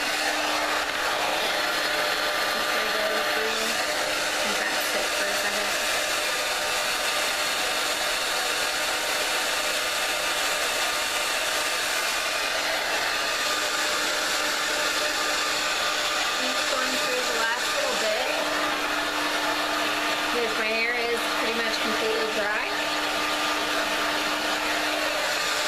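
Hair dryer on low heat blowing close and steady, a loud continuous airy whoosh with a faint motor whine that runs the whole time.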